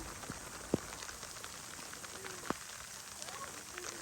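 Steady rain falling outdoors on a day of rice paddy planting, a soft continuous hiss with a few sharp drop-like taps, fairly faint and without any talking.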